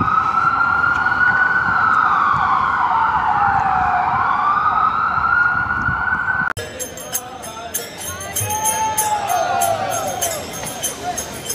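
Wailing emergency vehicle sirens on New York City streets, one sweeping steadily up and down for several seconds, then a busier mix of siren tones over loud traffic and street noise.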